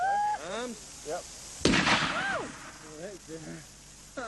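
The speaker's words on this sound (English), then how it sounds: "Then came the first experiments with explosives." Explosives test blast, a single sharp close bang followed by a short rumbling tail, with excited voices before and after it.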